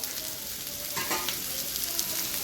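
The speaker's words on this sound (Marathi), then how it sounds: "कांदा परतायला ठेवलेला आहे" Onion frying in a pan for a home-style mutton thali masala, a steady close sizzle with a short burst of stirring partway through, with no one speaking.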